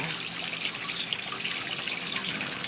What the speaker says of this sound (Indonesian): Ini air terjun saya yang saya bikin